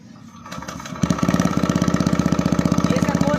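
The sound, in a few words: TVS Raider 125cc motorcycle Akrapovic exhaust idling on cold start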